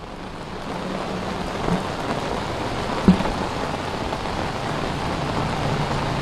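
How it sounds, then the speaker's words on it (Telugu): Steady heavy rain pours down in Hyderabad in a dense, continuous hiss, with a brief sharp knock partway through. "ఇక హైదరాబాద్ లో అయితే అరగంట నుంచి ఇప్పటి వరకు కూడా విపరీతమైన వర్షం కురుస్తుంది"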